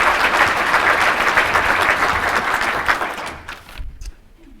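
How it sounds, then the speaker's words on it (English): Audience applause for Mr. Bill Allen, the member of the quarter, at the Midland State of the City Address, loud and steady for about three seconds before thinning out into a few scattered claps and quiet. "So please give him a round of applause"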